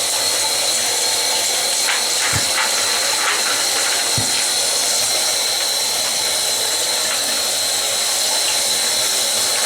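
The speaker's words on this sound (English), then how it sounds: "I'm going to go ahead and give these a rinse as well" Tap water runs steadily over the rinsed parts of a Marineland C-360 aquarium canister filter, a loud, continuous rushing hiss broken by two brief low knocks.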